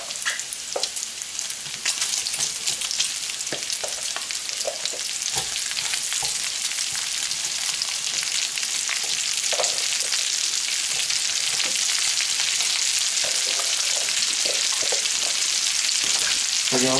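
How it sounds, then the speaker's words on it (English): Onion hits bacon fat in a pan for tartiflette and fries with a loud, steady crackling sizzle that holds for the whole stretch, broken by small pops and occasional stirring scrapes. "From there I'm going to throw my onion in."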